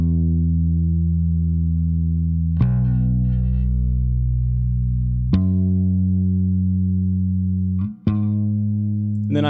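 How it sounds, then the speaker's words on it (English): Electric bass guitar playing sustained, thick notes that fill the mid-range, changing pitch about every few seconds with a clean, steady tone and a brief dip near the end; no voices. "So for the bass, I have an electric bass that I have that's really filling up the mid-range."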